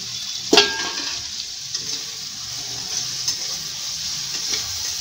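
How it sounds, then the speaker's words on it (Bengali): Chopped onion fries in hot oil for a jackfruit and prawn curry, a steady close sizzle punctuated by a sharp clatter as the spatula stirs, with small scrapes as spice pastes go into the pan. "পেঁয়াজ কুচুনিটা ভাজা ভাজা হলে তারপরে আমি এক এক করে সব বাটা মশলাগুলো দিতে থাকবো"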